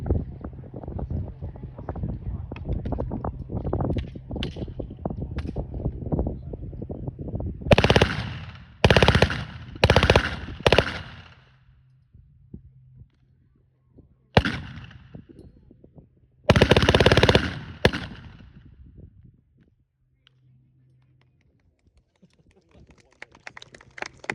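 A WWII-era German submachine gun fed from a 71-round drum magazine fires loud bursts outdoors at a weapons demonstration, several separated bursts of rapid automatic fire with quiet gaps and low background noise between them.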